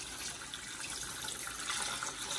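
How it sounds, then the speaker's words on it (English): Filtered water pours steadily into an Instant Pot over pheasant bones, a continuous close splashing rush with no speech. "Next, I'm going to add some filtered water."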